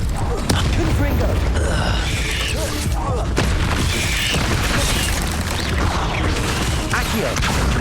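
Hogwarts Legacy combat with Confringo fire-spell blasts, a dense loud stream of booms, crackles and thuds running throughout alongside other spell effects, with a voice shouting over the din.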